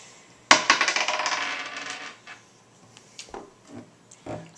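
Dice in a board game hit a surface with a sharp clatter and then rattle and bounce for about a second and a half. A few fainter clicks and taps follow, close by, with no talking.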